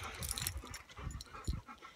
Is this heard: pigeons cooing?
no